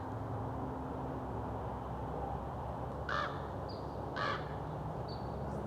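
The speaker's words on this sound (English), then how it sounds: "The birds are following me." Crows caw twice, about a second apart, over a steady outdoor hiss in a Hollywood cemetery, followed by fainter high bird chirps, with no one speaking.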